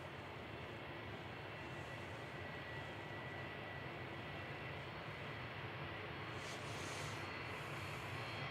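Jet2 airliner taxiing and crossing runway 23 right at Manchester Airport, a steady distant engine rumble and whine held evenly throughout with no talk.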